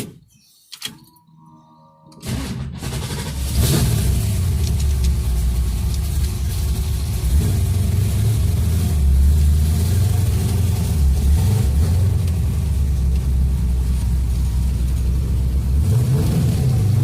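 A 1965 Ford Mustang drag car, a hot rod, fires up after a few seconds of quiet handling noise. Its engine then holds a loud, steady rumble with surging revs as the car pulls away and keeps driving.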